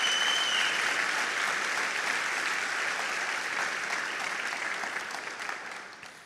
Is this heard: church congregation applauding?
yes